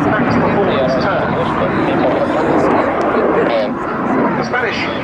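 A Spanish Navy AV-8B Harrier II Plus jet roars loudly and steadily through a max-performance turn at an air day, a dense continuous engine blast with a commentator's voice underneath.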